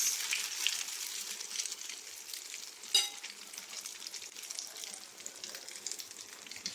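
Bread slices dipped in egg fry in hot cooking oil, giving a steady bright sizzle throughout with one sharp clink near the middle; no voices.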